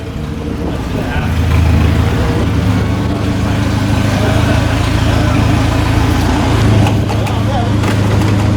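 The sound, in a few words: Nissan 240SX rebuilt KA24E engine idling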